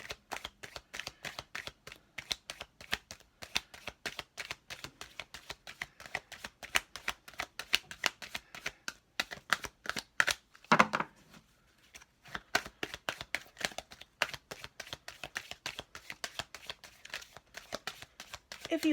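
A tarot deck shuffled continuously during a birthday reading, dense rapid card flicks and slaps with a brief pause midway, close and steady throughout.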